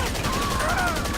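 A whole magazine emptied in GTA 5 Online: a dense, fast rattle of shots, loud and unbroken from start to end, with a rising tone faintly threaded through.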